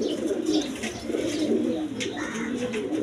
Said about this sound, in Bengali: 3 পট্টি লাল গিয়ার ডেনিশ কবুতর দেখেন